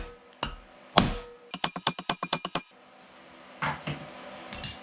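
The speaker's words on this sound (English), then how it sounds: "All you do is smack these with a hammer." A hammer smacks the valve spring retainers on an LS 5.3 cylinder head to shock the keepers loose: a couple of heavy thumps, then a fast run of about ten bright metallic taps, followed by a few scattered softer hits.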